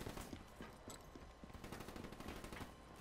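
Rapid gunfire from a Black Ops 3 free-for-all match rattles on continuously, dense overlapping bursts of automatic shots forming a steady, loud barrage with no talking.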